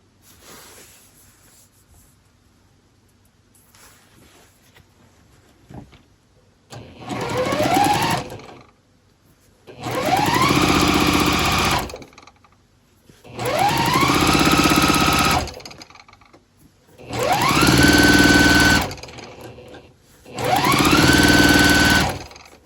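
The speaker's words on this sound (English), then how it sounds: "Take the next one in line, and then sew these together." Sewing machine stitching quilt pieces together, running in five loud bursts of several seconds each, separated by short quiet pauses, with the motor whirring up to speed at the start of each run.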